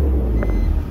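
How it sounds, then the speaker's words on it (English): A BMW 325Ci convertible idles with a steady low engine rumble, loud and close, with a faint chirp partway through. "Just listen to the motor."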